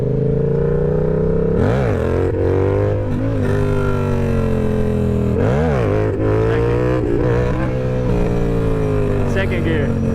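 A Yamaha R7 motorcycle revving hard during wheelie practice, a loud continuous engine drone with two quick rev surges rising and falling, wind noise and talk mixed in.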